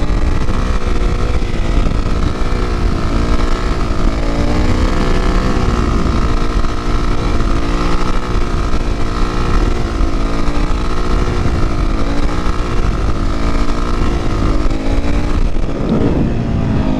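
Motorcycle engine held at steady high revs while riding a basic wheelie, a loud continuous drone with slight pitch wobble as the throttle is modulated, close and unbroken for the whole stretch.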